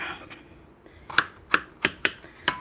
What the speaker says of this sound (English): Cut the zucchini down the middle. Chop it into smaller pieces.